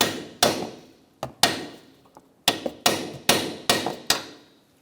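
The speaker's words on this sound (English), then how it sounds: "I'm going to use a cold chisel and a hammer" Sharp metallic hammer blows striking a cold chisel on a steering knuckle assembly of a 2014-2019 Kia Soul, about nine ringing hits in an uneven rhythm, loud and close.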